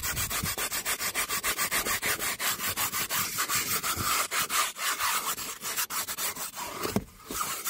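Car seat fabric is scrubbed hard with a brush and Auto Pratic upholstery cleaner, giving fast, rhythmic back-and-forth scratching strokes. The scrubbing is close and steady, with brief pauses near the end and no talk.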